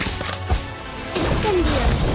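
A spell effect from the Harry Potter: Magic Awakened video game, heard as a sudden crash, then a rising sustained magical whoosh with a tonal sweep lasting about a second, loud and close.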